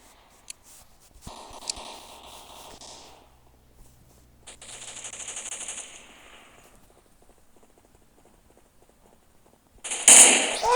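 Gunfire in the mobile shooter Standoff 2: a few sharp, scattered shots early on, then a loud burst of rapid firing close up at the very end.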